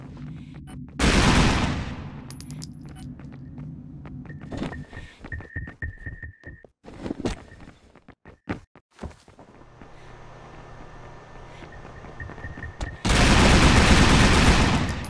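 Video game gunfire rattles during a Slaughterhouse 1v1 championship match as the red terminal comes under attack, with loud bursts at the start and end framing scattered shots and faint in-game noises.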